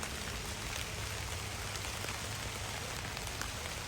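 Steady rain falls on an open field in Great Smoky Mountains National Park on a cool day, a dense, even hiss of drops that holds without pause for the whole stretch, with no voices.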